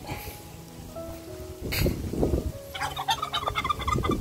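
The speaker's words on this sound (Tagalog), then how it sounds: "Ayan, pabo." A turkey gobbles in a rapid rattling burst, fairly close and clear, answered by further gobbling calls that trail off, with no talk over them.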